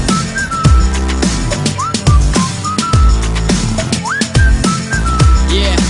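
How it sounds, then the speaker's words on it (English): Melodic whistled phrases ride over a loud electro house track with a pounding beat and bass, the whistling rising and sliding in short bursts within the mix. "so I whistled at her like"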